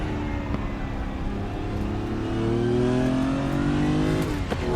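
A Porsche race car's straight-six engine in the RaceRoom racing game revs loudly and steadily, its pitch climbing as it accelerates, with no talking.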